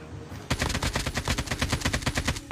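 Rapid automatic gunfire in Call of Duty Mobile during a duo battle royale tournament match, a loud sustained burst of evenly spaced shots that starts abruptly and rattles on for about two seconds without pause.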